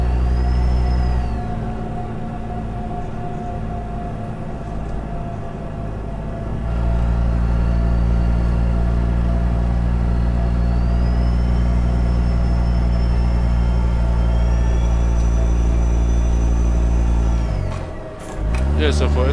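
A Kenworth W900L truck in American Truck Simulator drives steadily, its deep low engine drone continuous and loud throughout with a brief dip near the end; no voices are heard.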